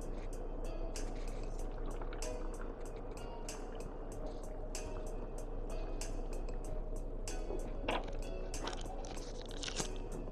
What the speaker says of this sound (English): I'm going to fill the rest with some grapefruit